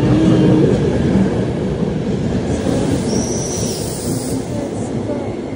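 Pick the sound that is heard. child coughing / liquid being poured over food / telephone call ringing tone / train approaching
train approaching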